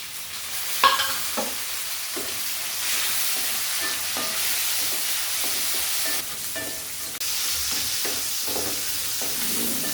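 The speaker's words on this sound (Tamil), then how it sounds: "வெங்காயம் போட்டு வணங்கிட்டு இருக்குது" Chopped onion and tomato sizzle in a hot pan while a spoon stirs them with repeated scraping knocks, the frying hiss steady and close throughout.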